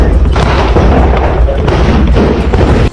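Gunfire from soldiers advancing in a combat zone in news footage, with dense repeated loud cracks and booms in a rapid, irregular barrage over rumbling background noise.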